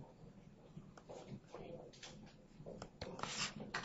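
A marker drawing a line across a board during a lesson on period changes in sine and cosine, a faint scratchy squeak lasting a few seconds under quiet room noise.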